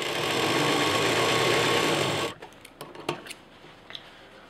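A sewing machine runs steadily, stitching the folded-in lining fabric at the bottom of a potli bag, a close continuous whir for about two seconds before stopping, followed by a few light clicks and handling noises.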